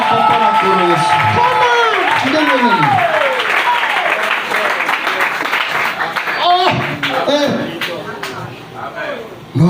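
Church congregation clapping and cheering for the Lord Jesus, a dense crowd sound with whoops, held steadily for several seconds as sung or shouted voices rise over it.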